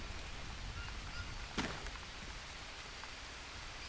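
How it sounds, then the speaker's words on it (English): Rain falls in the Green Hell survival game as a soft, steady hiss with one brief sharper tap, quiet and without talk. "Oh, it is raining!"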